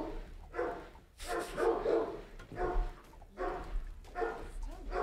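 A dog named Haas barks at neighbors walking past, several loud, close barks in irregular bursts with short pauses between them.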